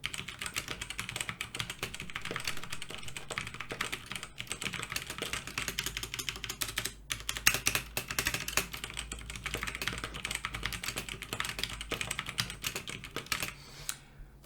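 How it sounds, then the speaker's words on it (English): Quiet, steady typing on a white Genesis Thor 303 TKL mechanical keyboard with brown Outemu switches, a fast, even run of close, crisp keystrokes lasting throughout with no talking. "let's hear the sound of the brown Outemu switches"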